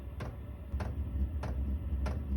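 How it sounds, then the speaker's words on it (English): Four evenly spaced mechanical ticks from a Chinese diesel heater's fuel pump in a snowmobile trailer repeat about every two-thirds of a second over a low steady hum, close and fairly quiet. "That's the fuel pump."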